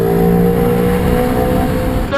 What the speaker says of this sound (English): So we're gonna accelerate and then we're gonna brake.